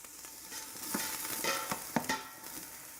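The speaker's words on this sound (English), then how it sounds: "we'll saute that for about 2 minutes or so, enough to get the scallions a little bit more translucent" Scallions saute in butter in a pan, giving a soft, steady sizzle broken by a few sharp scrapes and clacks as they are stirred.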